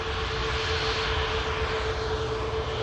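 A Ryanair jet airliner taxis off the runway after arriving from Brussels Charleroi, a steady distant engine roar with a faint constant whine, heard alone at an airport.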